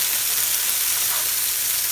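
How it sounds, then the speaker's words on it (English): Chicken shawarma pieces sizzle steadily in a hot frying pan, a close, constant crackling hiss with no talking. "Look how it's jumping around here and sizzling."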